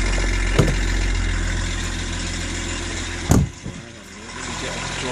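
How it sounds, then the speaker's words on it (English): BMW M51 six-cylinder diesel engine idling with the bonnet up, a steady low rumble close by with a couple of brief knocks. "The BMW M51 6-cylinder diesel."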